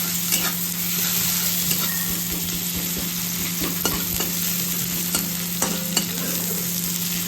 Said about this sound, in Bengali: তেলেই না পেঁয়াজগুলো দিয়ে দিয়েছি একটু ভাজা ভাজা হোক